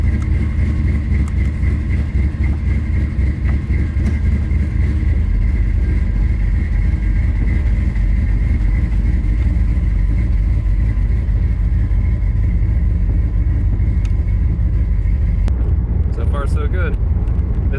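Car fitted with a Holley Sniper EFI engine idles, then backs out and drives off, its steady mid-range engine rumble close and continuous, changing near the end.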